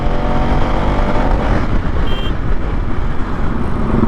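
Dense Chennai road traffic, a close, loud and continuous roar of engines, with a faint higher whine passing briefly midway and no voices.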